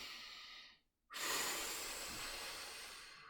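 Slow, deep breaths during a kneeling mobility warm-up: a long airy exhale, a brief pause, then a sustained close inhale filling the rest, soft and unaccompanied by talk.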